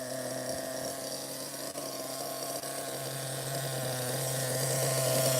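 A vintage ABN nitro RC engine idles with a steady, buzzing whine and layered harmonics, running continuously and fairly loud without any speech.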